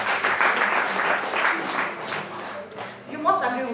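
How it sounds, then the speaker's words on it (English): Audience at an International Women's Day event gives a round of applause, a brief burst of clapping that fades as a voice starts speaking near the end. "Please let's give this woman a round of applause"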